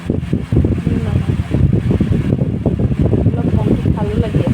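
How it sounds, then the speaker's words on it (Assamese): An electric fan runs close to the microphone indoors, its airflow making a loud, steady whooshing rumble with rhythmic buffeting, while a person talks over it. "চাউণ্ডটো চাগে কম আহিছে ফেনখন চলি আছে এইফালে"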